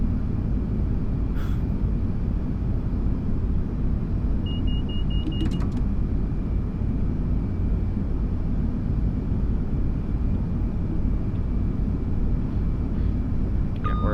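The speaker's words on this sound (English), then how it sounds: "We're at full throttle. The Turbostar definitely has some trouble when trying to get up to full speed." A Class 171 Turbostar diesel train in Train Sim World 6 runs at full throttle, a steady low engine drone and rumble filling the cab with a few faint electronic beeps and tones above it.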